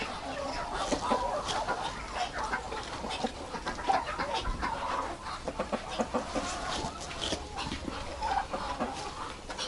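A broody mother hen clucks repeatedly in a busy poultry yard, her clucks coming in uneven bursts close by, with a dog and other fowl audible around her.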